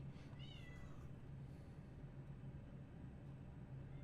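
A cat meows once, short and rising, early on, faint over the steady low drone of airliner engine sound from a flight simulator session, with no talking.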